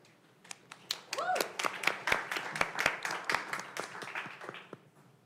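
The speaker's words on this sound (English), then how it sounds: "Please give a huge round of applause for our next startup" A conference crowd breaks into applause for a startup pitch, quick claps building into a dense, steady burst that lasts several seconds before thinning out, with faint voices underneath.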